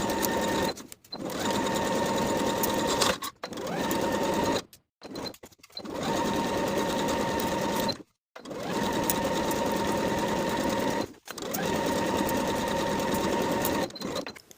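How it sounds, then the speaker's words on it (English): A sewing machine stitches fabric seams on a summer jumpsuit, sewing the armholes in loud, steady bursts of rapid mechanical whirring and clatter, broken by several short pauses between runs. "sew both of the armholes,"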